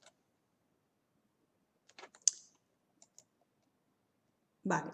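A few sparse, sharp computer mouse clicks while navigating a scientific article web page, isolated taps spread across a quiet room with a brief louder rustle at the end.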